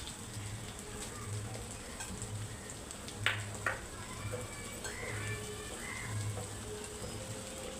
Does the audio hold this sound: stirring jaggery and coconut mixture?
yes